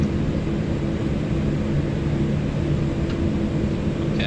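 Jet engines of an Airbus A340-300 spooling on the takeoff roll at Geneva, runway 22, simulated in Microsoft Flight Simulator 2024: a steady, loud, broadband roar with a low hum, continuous throughout with no voices.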